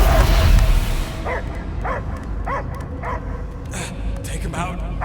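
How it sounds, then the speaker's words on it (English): A dog in the Guardians of the Galaxy video game gives a run of short barks and yips at a steady pace over a loud game soundscape, opening with a heavy low rumble. "I hear only barking."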